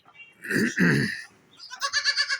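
Goat bleating nearby: two loud, rough bleats in quick succession, followed by a faster, wavering series of higher bleating pulses, with no talk.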